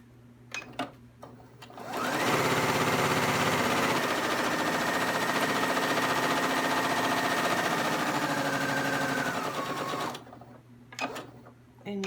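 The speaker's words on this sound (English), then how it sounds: "I'm going to sew down the pockets, the center of the plastic, to make individual pockets." A sewing machine runs steadily for about eight seconds as it stitches pockets into a plastic wall organizer, a close, even whirring hum with quiet handling noises before and after.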